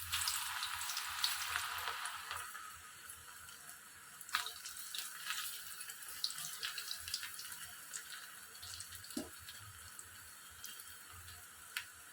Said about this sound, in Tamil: எண்ணெய் காஞ்சிருச்சு நம்ம பகடா போட்டுடலாம்